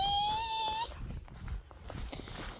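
A cat meows once, close and clear, with a rising drawn-out call. Faint rustling and soft movement follow in a quiet room.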